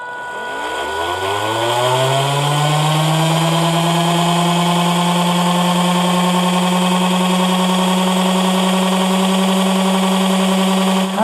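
A small DC motor driven through an Arduino-controlled H-bridge spins up from a stop, its whine rising steadily in pitch over the first two seconds, then holding a loud, steady hum with no talk.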